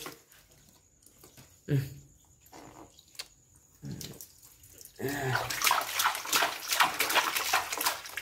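Water in a tank beside a semi-automatic hydraulic plastic cap-molding machine, quiet and trickling at first, then rising into a steady, close sloshing and splashing during the last few seconds.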